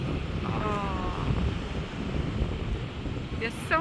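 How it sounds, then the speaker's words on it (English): Ocean waves washing on a Los Angeles beach, a constant broad rush mixed with breezy wind noise on the microphone, with a brief voice and a few faint, higher sounds appearing over it. "so relaxing to hear the ocean waves"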